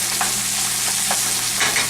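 Red bell pepper and onions stir-fry over high heat in a wok, a steady loud sizzle broken by a few scraping strokes of the spatula.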